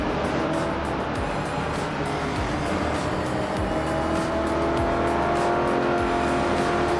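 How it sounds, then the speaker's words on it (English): A 1969 Chevrolet Nova SS race car in a racing video game, its engine droning steadily and loud with shifting pitch as it runs flat out, no voices. "Looks Ravenous is driving a 1969 Chevrolet Nova SS."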